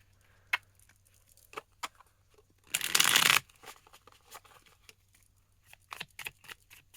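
A deck of tarot cards is shuffled by hand, quiet scattered card flicks and taps broken by one short, louder riffling burst near the middle, close and soft with no voices.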